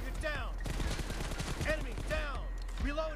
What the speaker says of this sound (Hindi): तो पहले हम इनको गन से मार देते हैं